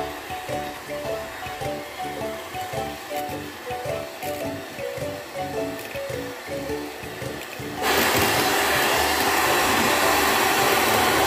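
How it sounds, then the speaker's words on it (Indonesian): An electric mixer whips clappertaart batter with a steady whirring drone under faint rhythmic clicks. It steps up sharply to a louder, rougher roar for the last few seconds, and no one talks. "kita mixer kembali hingga mengental ya teman-teman"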